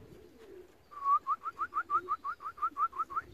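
A racing pigeon at its loft gives a rhythmic run of about a dozen soft, evenly spaced coos, close and clear over a quiet background.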